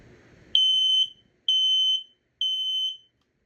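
A smoke detector is tested and gives three loud, shrill beeps of about half a second each, evenly spaced with short silences between them, close by and with no talk.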